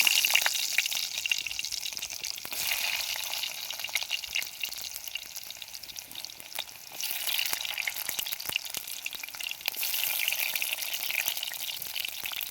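Shallots fry in a pan for a home-style sardine curry, giving off a steady, bright sizzle with occasional clicks and scrapes of stirring, close and continuous without speech.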